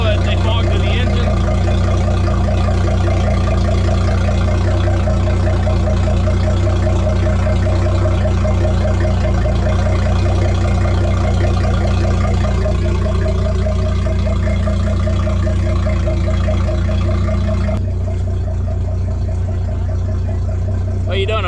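Fishing boat engine running after starting, a loud, steady low rumble idling nearby throughout, with a voice talking over it.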